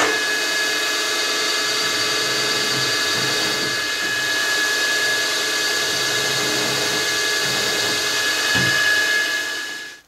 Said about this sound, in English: I'm going to start with the 120 degree starter drill.